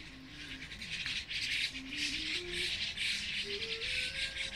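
A lively morning chorus of birds chirping in cherry trees in a Japanese park, continuous overlapping calls with a distant sustained melodic tone underneath, no voices.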